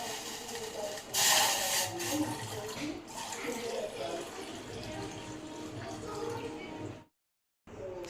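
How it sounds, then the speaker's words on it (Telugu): Water tipped from a glass into a bowl on a gas stove for Maggi noodles, a steady splashing pour that swells near the start, runs on for several seconds and cuts off, with speech heard in places. "తర్వాత ఒక గ్లాస్ వాటర్ వేయాలి"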